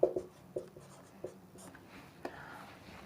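Chalk writing on a classroom board during a Class 10 chemistry lesson, several short scratchy strokes tapping and sliding at an uneven pace with a faint voice in the background.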